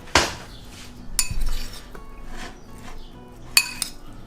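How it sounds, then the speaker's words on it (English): A spoon clinks against a bowl while stirring taco ingredients together, giving a few sharp metallic taps and scrapes with quiet pauses between them, close and fairly loud. "Then we're gonna get a spoon just to mix it around real quick."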